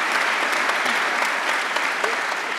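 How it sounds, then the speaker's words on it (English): An audience at a science and faith lecture panel claps steadily for a speaker being introduced, a loud, even roar of many hands that holds for a few seconds. "we'll clap for Charles."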